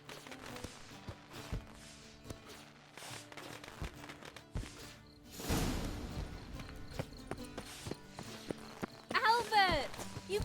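Horse hooves clip-clop in The Witcher 3 in a stable setting, a steady run of sharp thuds over game music and ambience, with a louder rustling burst midway and a short voice near the end.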